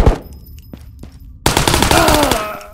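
Automatic rifle fire in the VR shooter Ghost of Tabor: a quiet lead-in with a few isolated shots, then a loud, sustained rapid burst of close gunfire spraying continuously to the end.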